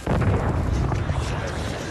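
Cannon artillery fire in a war film battle scene, heard as a dense, booming roar with rolling low rumble that fills the short stretch.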